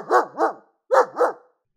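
A big Newfoundland dog barks loud and close, two deep barks, a short pause, then two more.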